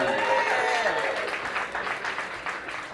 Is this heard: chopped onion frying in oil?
no